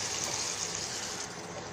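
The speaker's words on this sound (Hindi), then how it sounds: "मुझे इसमें थोड़ी ग्रेवी चाहिए तो मैं अब इसमें हल्का सा पानी ऐड करूँगी।" Water poured into Manchurian gravy masala in a pan gives a close, steady hissing wash that runs unbroken throughout, with no talking.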